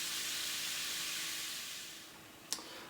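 Onions cooking down in a pot for a red onion sauce give a steady, fairly faint sizzling hiss that eases off slightly, broken near the end by one sharp brief tick.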